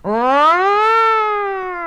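A single fire engine siren wail climbs in pitch and then holds a steady, slightly falling tone. It is loud and close, with no voices.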